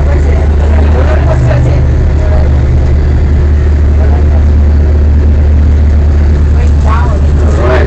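A specially designed glacier bus grinds down a steep road on the Columbia Icefield, its heavy engine droning loud and steady throughout, with brief passenger voices rising over the rumble.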